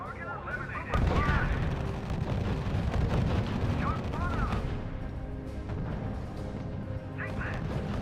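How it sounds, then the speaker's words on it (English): Artillery barrages and gunfire in the WWII strategy game RUSE, a dense rumbling of blasts and impacts with a heavy burst near the start, layered with radio-style voices speaking throughout. "Sheridan, the Germans are using artillery."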